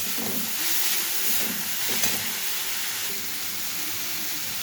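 Chili and cumin powder sizzle steadily as they sauté in a pan, a continuous hiss with faint stirring scrapes and no talk.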